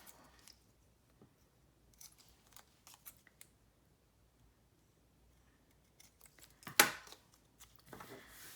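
Scissors snip a leftover strip of paper, leaving a few faint, sparse clicks and rustles and then one sharp, close cut near the end in otherwise quiet surroundings.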